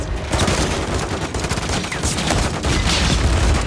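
Sustained automatic gunfire in a Call of Duty MW3 firefight, dense overlapping bursts and rattling shots filling the whole stretch at close range with no pause.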